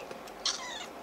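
A lone kitten, a young male that appears recently abandoned, gives one short, fairly loud meow in a quiet room.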